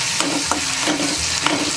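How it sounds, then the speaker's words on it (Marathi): Chopped coriander being stirred into a drumstick and potato curry in a pan, with quick rhythmic scraping strokes of the spoon over a steady background sizzle. "आता यामध्ये मी बघा थोडीशी कोथिंबीर चिरलेली घालून घेते, पण मी व्यवस्थित असं मिक्स करणार आहे"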